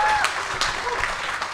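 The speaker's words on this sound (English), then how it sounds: "How about a big round of applause for these guys?" Brief scattered clapping from a small crowd, a short burst of applause fading out quickly.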